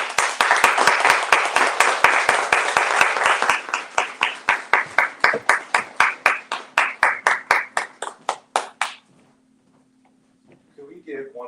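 An audience applauds after a poetry reading, starting as dense clapping that thins into slower, sparser individual claps before fading out, followed by a brief sound near the end.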